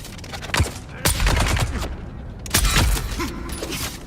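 Gunfire in the Dune Awakening video game sounds as repeated loud shots and bursts across the clip, with a steady rumbling game background and a voice talking at times.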